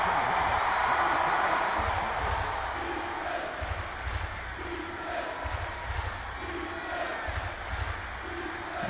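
Broad crowd roar fills a football stadium during a CXWIFL Mega-Bowl game, a steady wash of cheering with rhythmic low thumps and swells rising and falling throughout.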